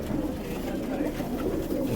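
Pigeons in a loft, a mixed flock of males and females, cooing in a low continuous murmur under a steady background hum, fairly close and moderately loud throughout.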